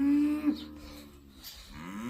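Heifers and cows on a farm moo close by, one low drawn-out bellow followed by a softer lowing call, with no talk.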